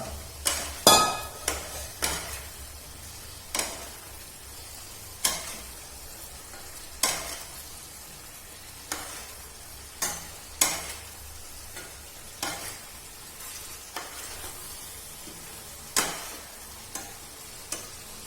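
Potatoes cook in a spiced masala in a pan, with steady, rhythmic scraping strokes of a spatula roughly every second over a low, constant sizzle.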